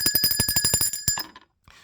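A bell is rung rapidly, about a dozen bright metallic dings in quick succession, then a short ringing decay and a faint final tap.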